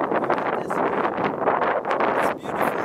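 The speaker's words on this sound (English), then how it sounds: "It's a little rough. It's windy." Wind buffets the microphone from a kayak on choppy water, a rough, fluttering rumble that surges and dips in close, loud gusts.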